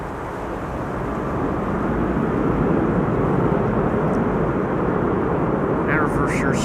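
Thrust reversers roar on a jet landing at Schiphol, a broad loud rush swelling after the first seconds and holding steady, heard from a distance with voices speaking over it.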